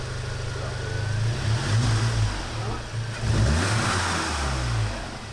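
A VW Golf GTI Mk7.5 fitted with an XForce catback exhaust gives a series of short throttle blips, the deep engine note rising and falling several times up close, with faint voices in the background.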